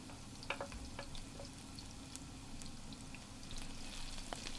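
Chopped onions fry in oil in a pot, giving a faint, steady crackling sizzle with scattered small pops and ticks throughout, heard alone at low level.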